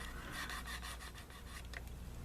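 Faint, steady rasping of 600 grit sandpaper smoothing seam lines on a plastic 1:8 scale Batman model kit, a quiet back-and-forth rubbing heard close up without speech.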